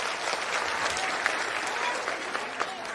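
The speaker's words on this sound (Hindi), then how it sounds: "एक बार जोरदार ताली बजेगा प्रशांत किशोर जी को" Audience applause at an evening public gathering in honour of Prashant Kishor at Bhagwati temple, a broad wash of clapping that fills the clip with a few sharper individual claps standing out.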